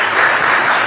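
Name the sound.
audience applause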